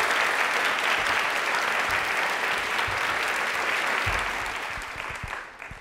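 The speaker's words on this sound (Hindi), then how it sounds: "तालियां प्लीज एक बार जोरदार बजा सकते हैं" Loud, sustained applause from a studio audience at a Doordarshan Jaipur quiz show taping, steady dense clapping that tapers slightly toward the end, with no talk over it.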